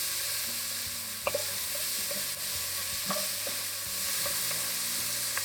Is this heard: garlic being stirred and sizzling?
yes